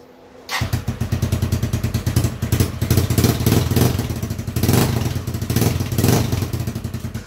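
A custom motorcycle that previously would not start fires up after a brief pause, then settles into a loud, close, rapid chugging idle with periodic throttle swells and clattery mechanical texture.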